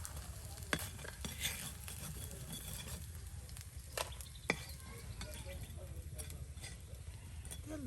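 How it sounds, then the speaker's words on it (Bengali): Bora fritters frying in hot oil and being lifted out, a steady soft sizzle with occasional sharp metallic clicks and scrapes of a utensil against the pan. "এই যে বড়া নামানো হচ্ছে"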